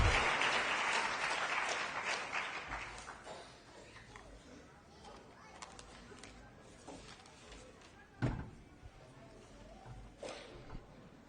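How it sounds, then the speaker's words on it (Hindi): An audience claps to welcome a state party president at a political gathering for a Christian community in India, loud at first and then thinning into scattered claps, with voices talking over it. "आप लोग ताली के गड़गड़ाहट से स्वागत कीजिए"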